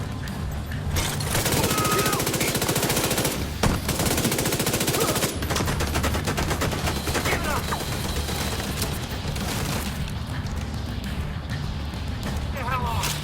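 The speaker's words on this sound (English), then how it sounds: "Setting up my turret." Automated turret firing in the video game The Division 2, with sustained rapid gunfire over a steady loud game soundscape while a person talks over it.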